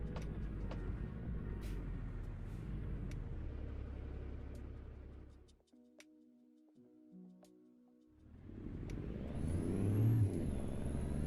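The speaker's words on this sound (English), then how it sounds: "whenever I rev the engine or floor it and the engine is revving" Truck engine in American Truck Simulator rumbles and revs loudly, drops away to a quieter gear-change lull with soft tonal sounds, then surges back up as the engine is floored again.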